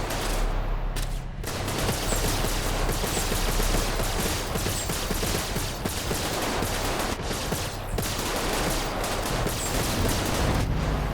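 Dense, loud gunfire during a firefight in the space game Star Citizen, with rapid bursts of shots running almost continuously, briefly dropping out near the start.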